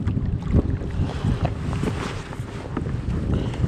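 Wind gusts roar across open water around a pedal kayak on a choppy day, a steady buffeting rumble with microphone wind noise and faint lapping water, no voices.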